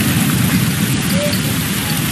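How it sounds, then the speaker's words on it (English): Steady, heavy rain pours down in a loud, dense wash with no let-up, close and continuous from start to finish. "Here, past the rain,"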